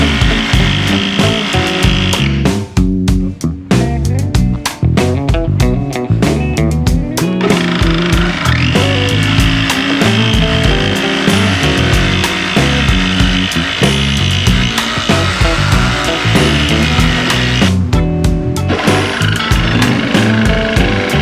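Power saw cutting wood panels for a small café build, a long, loud, continuous grinding whine with brief pauses between passes, close up and without speech.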